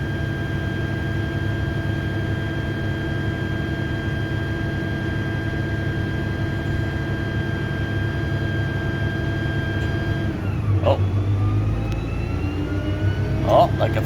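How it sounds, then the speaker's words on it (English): A tractor engine runs at a steady mid-pitched drone, then rises in revs as the hydraulics engage to work a seed drill, with a brief louder surge and rattle near the end. "It revs up the RPM when the hydraulics are activated."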